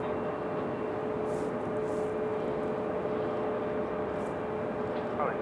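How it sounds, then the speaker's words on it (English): Delta Airbus A320 arriving to land on runway 23 left at Raleigh-Durham airport, heard as a steady, broad distant jet roar with a faint whine, continuous throughout. "This one will land in 23 left in a A320."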